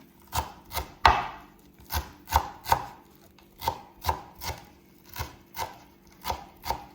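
Vegetables being finely chopped on a cutting board for tabbouleh salad, about a dozen sharp, close knife strikes in a loose, steady rhythm with no talking.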